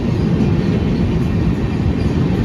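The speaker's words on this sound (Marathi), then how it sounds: "मला आता पूर्ण ट्रेन दाखवतो बघा कशी कट मारून." A train passes close by with a loud, continuous low rumble and rushing roar of rolling wheels and wagons, steady throughout with no talk.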